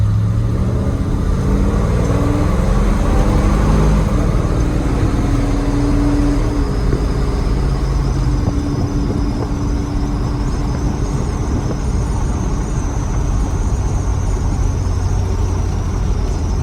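A 1976 Ford F250 4x4 crew cab truck with two-chamber Flowmaster mufflers drones steadily while driving, a loud, close, low exhaust rumble that swells slightly early on, with no talking.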